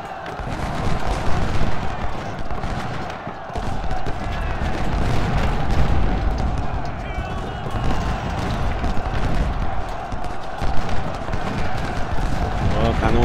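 Cannon and artillery fire boom on and on through a battle in the video game Ultimate General: Civil War. The gunfire is loud and dense and rumbles without a break, with sharper shots now and then.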